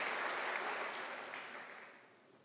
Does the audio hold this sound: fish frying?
no